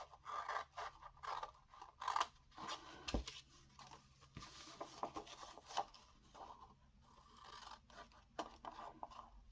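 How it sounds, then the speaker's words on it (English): Scissors trim a paper corner while an envelope is being made, giving a series of quiet, close snips and crisp paper rustles and scrapes at irregular intervals. "I'm just going to trim the corner out of this one so that I don't have to trim so much of it off."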